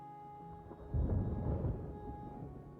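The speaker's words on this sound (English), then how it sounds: "I can hear the rolling thunder clouds overhead and here comes the rain" Low rolling thunder rumbles overhead in the city-building game Anno 1800, swelling after a quiet start and then slowly fading, with a steady faint tone beneath.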